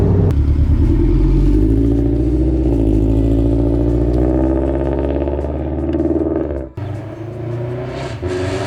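Toyota 86 / Subaru BRZ with a modified, deeper-toned exhaust, a loud close engine holding a sustained drone with rising and falling revs, then a sudden cut and a lower idle.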